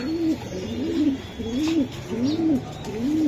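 Several low, rolling coos from caged pigeons, including a big male, repeat in a steady rhythm, close by and clear.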